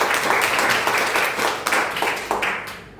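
Audience at a business opportunity event claps in a dense, lively round of applause with a few louder claps standing out, tapering slightly near the end.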